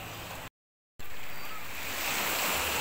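Sea waves wash onto the shore at Alcoy in the afternoon, a steady, loud broadband rush that is briefly cut to silence before resuming with a fuller surge.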